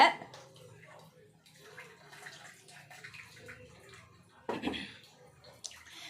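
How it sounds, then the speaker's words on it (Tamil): Water splashes and trickles into a vessel of rice in short bursts while cooking tamarind rice, with faint background voices and clinks of a kitchen. "அதே மாதிரி நீங்களும் அளவு தண்ணி ஊற்றிக்கோங்க"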